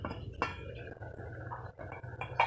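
A short metallic clink of a lid being lifted off a pot of boiling water on an electric stove, with kitchen clatter and a low steady hum underneath.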